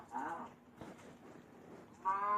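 Sheep in Minecraft Pocket Edition give two short synthetic bleats, one at the start and one at the end, clear and fairly close over quiet game background.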